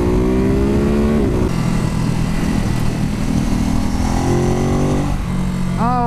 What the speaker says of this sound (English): Quick shifter and blipper is also very,